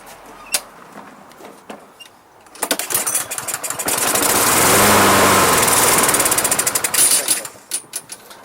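A Toro Recycler lawn mower with a Kohler engine, run with no gas in the tank, cranks with a few pulls, then roars into a loud close engine drone for about four seconds before it sputters and dies, with no talk.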